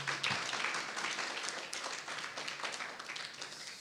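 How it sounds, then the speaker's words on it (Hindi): A church congregation claps at a fourth-anniversary service, a scattered, moderately distant patter of hands continuing steadily for several seconds without speech. "धन्यवाद करते हैं और यीशु के लिए जोरदार ताली बजाएंगे।"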